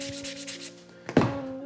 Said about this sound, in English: Now you just take a sanding block or just some sandpaper and just kind of clean up those 90 degrees